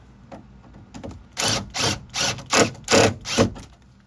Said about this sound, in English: I'm just gonna drill that out like that